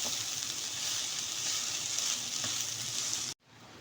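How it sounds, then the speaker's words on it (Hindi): Okra (bhindi) frying in a pan over a high flame, a dense continuous close sizzle that holds steady for over three seconds before cutting off abruptly, with no voices. "हम तेज़ आंच में भिंडियों को पहले फ्राई करेंगे"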